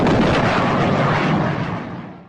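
A sonic boom sound effect in a fishing lure radio ad, one loud, broad rumbling blast that fills the clip and fades away at the end, with no talking.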